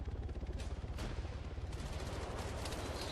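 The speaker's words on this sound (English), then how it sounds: "Now I can hear a lot of gunfire coming from within the tower." Sustained gunfire in the military shooter Arma 3 during a King of the Hill match, a rapid string of overlapping shots from inside a tower, somewhat distant and muffled, continuing steadily.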